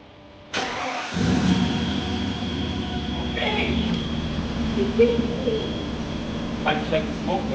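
A Mercedes W124 E42 AMG engine catches abruptly and settles into a steady nearby idle with a low rumble, while voices talk over it and birds chirp in the background.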